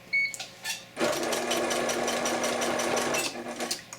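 A sewing machine stitching a chenille scarf runs in a steady, fast mechanical whir for about three seconds after a few brief starting sounds, close and clear with no talking.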